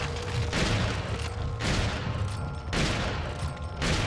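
Rapid bursts of gunfire in Resident Evil 4, loud booming shots repeating in clustered volleys about once a second, dense and continuous with no voice over them.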